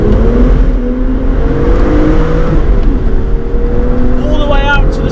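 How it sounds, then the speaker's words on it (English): A BMW M2 with a manual gearbox drives through a tunnel, its engine note a steady loud drone inside the cabin with a rising rev blip near the end, heard alongside a voice. "Let's give it a little blip through this tunnel."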